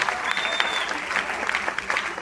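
A seminar audience claps for the system management team, with brisk, continuous applause and scattered sharper claps, steady throughout.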